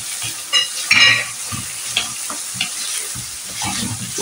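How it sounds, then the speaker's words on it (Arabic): Onion and garlic frying in a pan, with a steady close sizzle and intermittent scraping and stirring knocks throughout, no talking. "فوالا نديرو يتقلى مع البصل. نزيد نضيف عليه 3 سميات تاع الثوم."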